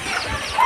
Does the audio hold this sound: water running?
no